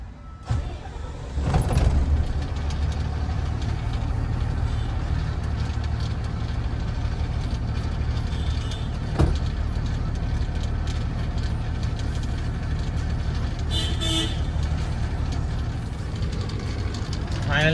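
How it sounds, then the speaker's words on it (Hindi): An Ashok Leyland BS6 55.25 trailer truck's diesel engine turns over and settles into a steady, close, continuous running rumble, with people talking over it. "फाइनली गाड़ी स्टार्ट कर दिया दोस्तों"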